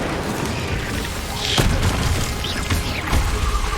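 An Incendio fire spell blasts in the game Hogwarts Legacy, a loud booming burst over a dense roar of combat noise, with a second hit following soon after.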